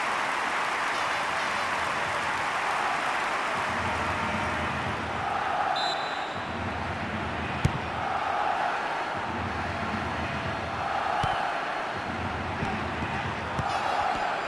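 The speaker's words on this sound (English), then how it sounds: "Now just listen to the crowd sing." Stadium crowd in the PS2 soccer game International Superstar Soccer 3 chanting in steady rhythmic swells, a continuous loud roar rising and falling in repeated waves with no talk over it.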